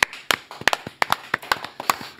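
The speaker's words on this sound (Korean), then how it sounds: "전 시장님, 박수로 맞이합니다." Scattered, uneven hand claps from a small audience greeting a former Ulsan mayor as a guest, about a dozen sharp separate claps over a couple of seconds rather than a full ovation.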